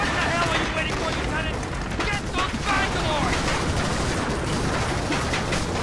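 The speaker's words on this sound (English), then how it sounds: "Waiting for a break in enemy fire, sir." Enemy gunfire in the World War II shooter Medal of Honor: Allied Assault, a dense, continuous barrage of rapid shots and bursts crackling without pause, loud and close throughout.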